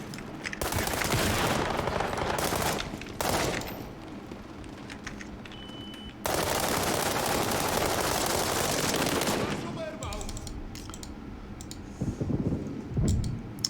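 Heavy firefight in the video game World War 3, with dense bursts of gunfire and clicking crackle filling long stretches, broken by brief quieter gaps and a few sharper low thumps near the end.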